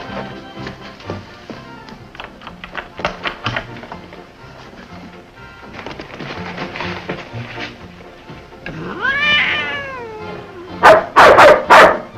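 A dog yips and barks in a few sharp, close bursts near the end, after a stretch of tapping and clattering with brief voices in the background.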